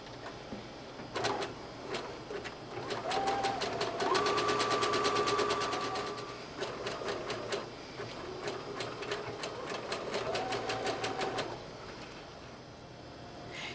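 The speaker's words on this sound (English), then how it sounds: "Now we'll finish those edges with the zigzag stitch." A sewing machine runs a zigzag stitch along seam edges of an A-line dress, its motor whirring in bursts of rapid needle clatter, nearby and moderately loud, pausing and restarting twice, with no talking.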